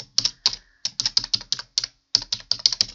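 Typing on a computer keyboard: close, crisp bursts of keystrokes with a short pause partway through, alone with no talk.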